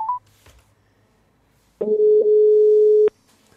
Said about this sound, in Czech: Tak, slyšíte sami, že vyzvání telefon?